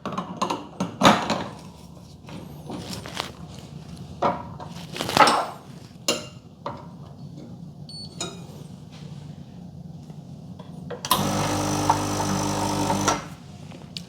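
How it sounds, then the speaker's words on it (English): A Sunbeam Torino espresso machine pulling a manual shot: scattered clanks and taps of cups and parts, then a loud steady pump hum with a buzzing drone starting near the end and lasting a few seconds, no talking. "Let's pull a manual shot."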